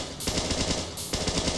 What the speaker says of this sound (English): your needle gun does 5 to 12 damage based on range, but it has an arc to it